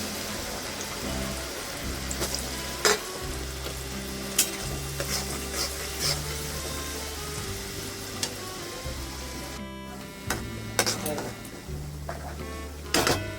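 Katla fish pieces frying in hot oil, with a dense continuous sizzle and crackle, repeated clatters and splashes as more pieces are dropped in, and a speaking voice over the frying.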